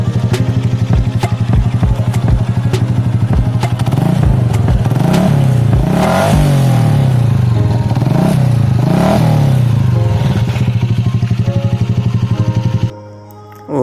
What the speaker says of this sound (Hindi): इंजन के एग्जॉस्ट की, तो वो हमने HKS का ओरिजिनल एग्जॉस्ट यूज़ किया है।